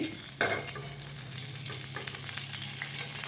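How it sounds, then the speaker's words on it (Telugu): Oil with a quarter teaspoon of turmeric being stirred in a pan for chicken gongura pickle, a steady low sizzle with a spoon scraping once near the start, no voices. "మొత్తం అంతా కూడా ఒకసారి ఇలా కలుపుకోవాలి"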